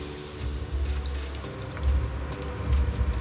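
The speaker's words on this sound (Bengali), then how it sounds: "পরিমাণ মতো জল দিয়ে দেবো।" Water poured into a pan of cooking soybean curry, a steady splashing, bubbling flow with low sizzling swells, continuous and close with no talking.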